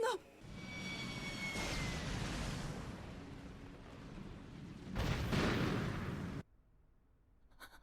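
Explosion in a Macross Frontier anime space battle: a loud, sustained rumbling blast with crackling debris that swells again near the end before cutting off abruptly, followed by quieter background sound.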